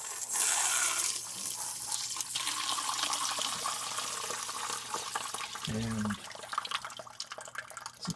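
Water runs and splashes steadily from a swamp cooler water line draining through a T-drain, a continuous trickling wash with scattered drips, with a brief spoken word over it.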